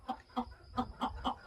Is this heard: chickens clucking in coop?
yes